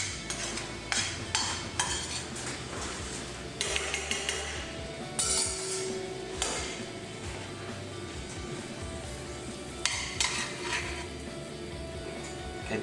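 Cutlery and plates clink and scrape while a pasta dish is plated, topped with parmesan, pine nuts and cracked black pepper, in a busy kitchen; scattered sharp taps and clinks sound over steady background hum.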